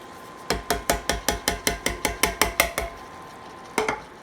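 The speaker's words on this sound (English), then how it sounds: "So I'll just stir these tomatoes in" A spoon stirring tomatoes in a pan for steak pizzaiola: a steady run of about fourteen sharp, evenly spaced metallic knocks against the pan, then a pause and a couple more quick taps, with no talking.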